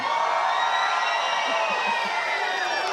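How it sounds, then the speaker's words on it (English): Fans cheering for Madison Keys after her Australian Open win, a loud, continuous crowd roar with whoops and shouts, sustained throughout with a few faint low voices near the end. "you've got this lot who've run out of the stadium to cheer you on"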